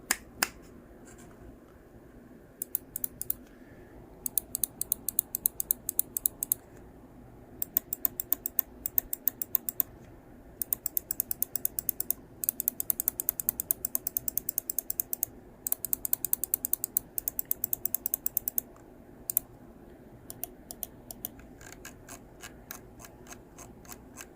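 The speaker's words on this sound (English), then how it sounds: "I forgot to do a button click test" Button clicks on a G-Wolves HSK (Husky) computer mouse, sharp close-up ticks in fast clusters and rapid trills separated by short pauses, crisp and isolated with no talking.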